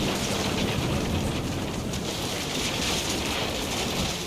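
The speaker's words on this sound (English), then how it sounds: "The rain came down in buckets then" Heavy rain in the video game What Remains of Edith Finch, a steady dense downpour with a constant hiss that stays loud and even throughout, with no voices.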